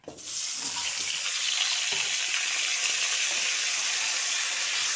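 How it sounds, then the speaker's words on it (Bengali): Three potatoes cut into long strips frying in hot oil, giving a loud, steady, hissing sizzle that starts abruptly and holds evenly with no voices. "এবার তেলের মধ্যে আলুটা দিয়ে দিচ্ছি।"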